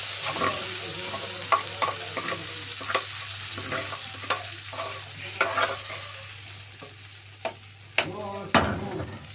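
Oil crackles in a frying pan while food cooks, a steady sizzle punctuated by irregular spatula scrapes and clacks, close and fairly loud, with no speech.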